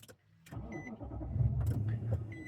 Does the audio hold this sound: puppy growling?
no